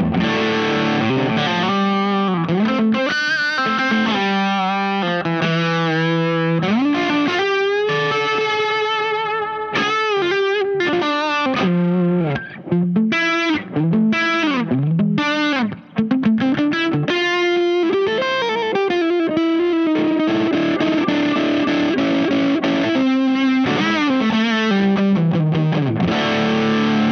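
Distorted electric guitar played through a Benson preamp, a continuous loud run of driven chords and melodic lines, thick and compressed, with brief dips in level around the middle and no talking.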